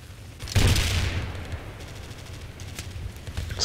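Anti-aircraft gunfire in the military shooter game Project Reality, a sudden loud burst of rapid firing and blasts that rumbles on as a sustained barrage with further shots trailing off.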